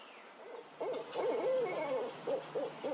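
Barred owl hooting in a quiet park, a series of loud, close hoots with throaty rising and falling calls, alone without talk.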